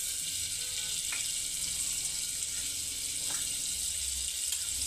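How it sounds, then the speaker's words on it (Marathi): Butter sizzles in a pressure cooker for pav bhaji, a steady, even hiss running the whole time at close range, with a couple of faint clinks and no talk. "कुकरमध्ये बटर टाकून घ्यायचं आहे"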